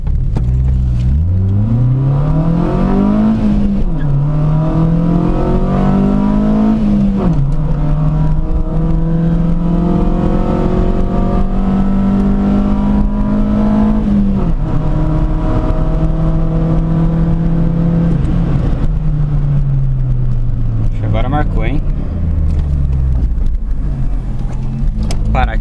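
A Chevrolet Corsa Classic 1.0 VHC running on ethanol with a sport exhaust and air filter accelerates hard through several gears, the loud engine note climbing and dropping at each shift before easing off near the end.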